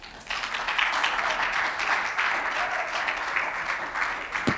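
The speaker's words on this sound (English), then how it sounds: "So a round of applause for all these people" An audience at a songwriters' benefit concert applauds in a dense, sustained round of clapping that holds steady throughout and ends abruptly.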